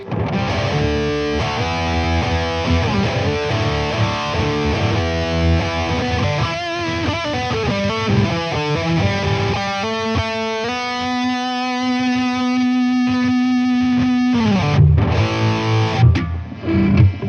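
Heavily distorted electric guitar riffing through a BOSS MS-3, thick and saturated metal tone, with chugging chords and a long sustained note near the end; no voices.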